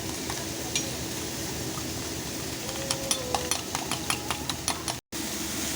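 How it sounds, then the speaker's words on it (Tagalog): Onion sautéing in a pan for an egg dish, a steady dense sizzle with a few faint stirring clinks and scrapes near the end, no talk over it. "igigisa ko muna yung aking onion"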